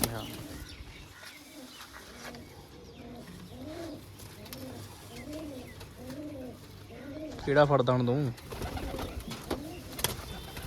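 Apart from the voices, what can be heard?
pigeons cooing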